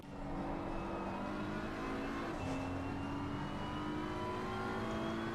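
In the Assetto Corsa Competizione racing game, a McLaren race car engine drones steadily at a fairly constant pitch with a slight dip partway through, moderately loud and without talk.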